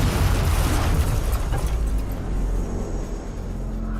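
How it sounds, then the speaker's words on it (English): Huge explosion from a C4-detonated device in a battle royale story, a loud booming blast with a heavy low rumble that trails off over a few seconds. "throws it on and detonates the device, which causes a huge explosion"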